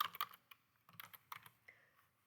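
Computer keyboard typing in a quiet room, a burst of rapid keystrokes at the start followed by scattered, lighter individual key presses, close and fairly soft with no talking.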